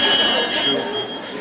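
A timekeeper's bell at a debate event rings out brightly at the start with a second strike shortly after, leaving a sustained metallic tone that fades slowly while a voice speaks.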